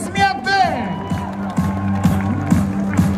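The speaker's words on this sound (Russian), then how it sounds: "Друзья, аплодисменты." Studio audience at an aerial extreme show applauding and cheering over upbeat background music, with a loud whoop near the start and steady clapping and crowd noise throughout.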